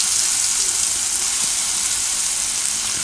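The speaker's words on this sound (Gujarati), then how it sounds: "હવે એમાં આપણે આ પનીરના ટુકડા શેકી લઈશું" Paneer pieces roasting in a pan with ginger, chilli and garlic give off a steady, bright, hissing sizzle throughout, close and even, with no talking.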